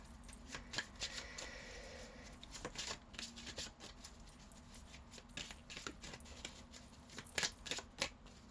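Tarot cards being shuffled up close, a run of crisp riffling slaps and soft papery patter repeating unevenly for several seconds, with no voices over it.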